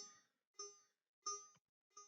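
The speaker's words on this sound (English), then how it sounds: "Okay, sorry, that was the bell." A bell rings four evenly spaced, bright metallic dings, each fading quickly, faint and heard alone.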